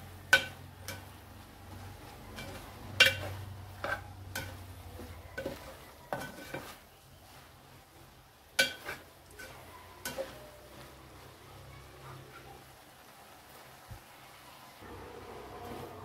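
Dried shrimp (jawla) being stirred with fresh coriander in a pan, with a spoon scraping and clinking against the metal in sporadic strokes over a faint sizzle. The stirring is close and fairly quiet, and no one speaks.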